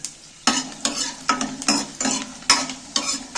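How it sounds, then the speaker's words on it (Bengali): Ginger pieces fry with spices in hot oil, a steady sizzle broken by repeated bursts of stirring and scraping in the pan, close and fairly loud, with no voices. "আদার টুকরোগুলো দিয়ে দিচ্ছি"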